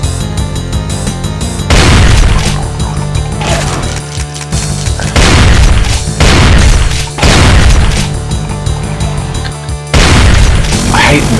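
In the video game Brutal Doom, rockets explode one after another: heavy booming blasts that land in bursts every couple of seconds over a dense, loud backdrop of gunfire and game noise.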